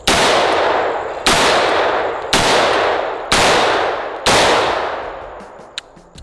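Five loud gunshots from a surplus Zastava revolver firing .38 rounds, each a sharp blast with a long ringing decay, spaced about a second apart, followed by faint clinks.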